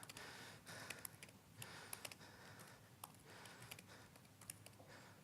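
Fast, quiet typing on a computer keyboard, irregular bursts of light key clicks over a low background hiss, with no one talking.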